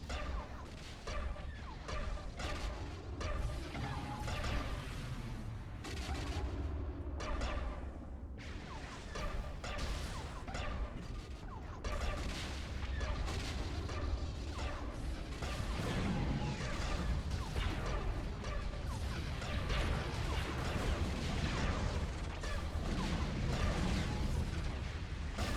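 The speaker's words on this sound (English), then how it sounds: "Volleys of turbolasers and ion cannons pummel the station as the Star Destroyers enter point-blank" Space-battle sound effects of turbolaser and ion cannon volleys pounding a space station from Star Destroyers: a continuous, dense barrage of booming blasts and crashes overlapping without pause, loud throughout.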